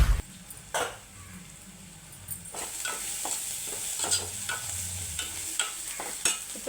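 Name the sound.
onion pieces frying and being stirred for chicken curry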